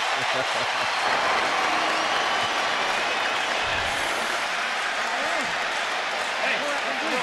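A large boxing arena crowd at Pacquiao vs. Bradley 2 roars and cheers continuously with scattered applause, a dense wall of noise, while voices talk over it.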